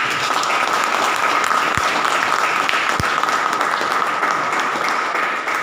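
A group claps loudly and continuously during a business training session, the dense applause holding steady throughout with a couple of sharp low thumps partway through.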